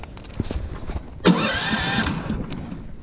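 A Snowdog motorized sled engine catches and starts on choke, a sudden loud burst of cranking that settles into a steady, buzzing run close by after a second of quieter knocking.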